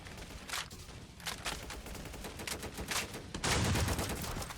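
Weapon fire in the Roblox game The Undead Coming, close rapid shots cracking in quick bursts with brief gaps that suggest reloading, growing louder toward the end.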